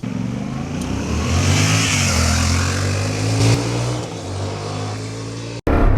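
A 2025 Yamaha Tenere 700 Low adventure motorcycle accelerates up to road speed, its engine note climbing through revs with a shift-like dip midway, loud and close, then cutting briefly near the end.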